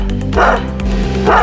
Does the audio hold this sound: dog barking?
yes